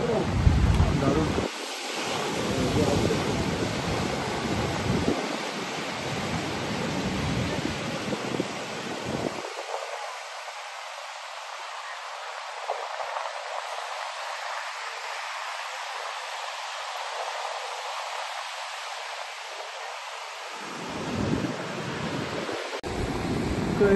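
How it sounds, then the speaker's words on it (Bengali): Sea waves break and wash on the shore near Puducherry or Chennai, a broad steady roar with surges near the start and end and wind buffeting the microphone. "সমুদ্রের ঢেউ"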